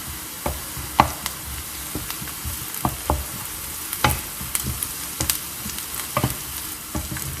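Onions sautéing in a pan with a steady sizzle, broken by frequent sharp scrapes and taps of a spatula stirring them, close and clear with no voices.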